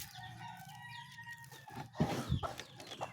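Wet backyard chickens fed together after a bath: a rooster crows and hens cluck near the mic, with scratchy pecking and rustling bursts in the second half.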